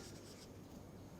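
Handwriting an equation, likely chalk or pen on a board, a steady faint scratching rub that continues through the whole short moment with no voice over it.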